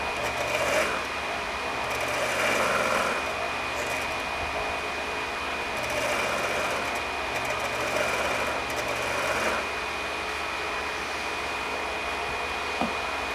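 Dubbing brush twister being spun to tighten a dubbing brush, giving a steady close mechanical whirring hum that swells and eases in several spins over a constant high-pitched tone.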